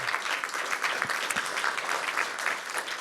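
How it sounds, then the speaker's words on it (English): A conference audience applauds a remote speaker after a talk on verifiable indexes, dense steady clapping that carries evenly through the short stretch. "A round of applause for Martin"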